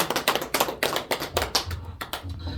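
A church congregation at a Korean revival service claps together in a quick run of sharp, close claps that fades out in under three seconds.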